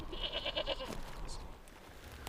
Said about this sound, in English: they spot some goats on the upper slopes